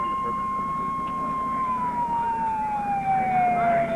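An ambulance siren wails steadily with a long, slowly falling tone, carried over a rumbling low background of traffic or engine noise, in 1974 Huntsville after tornadoes.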